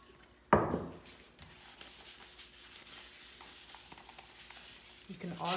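Finish coating being rubbed by hand onto a turned wooden pencil holder, a soft close rubbing hiss in repeated strokes, opening with a brief louder knock.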